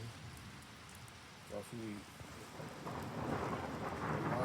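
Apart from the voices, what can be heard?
rain and thunder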